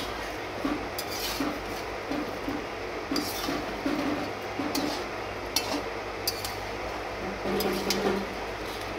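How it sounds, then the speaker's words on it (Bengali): Fried potatoes are tipped into a pan of cooking Bengali curry and stirred, giving intermittent scraping and clinking of a utensil against metal over a steady background hum and hiss. "এর মধ্যে আমি ভেজে রাখা আলুগুলোও দিয়ে দিলাম"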